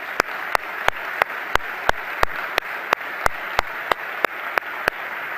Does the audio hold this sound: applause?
yes